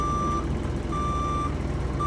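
A Class B commercial truck reverses, its backup alarm sounding steady repeated beeps over a continuous low engine rumble, with no talk.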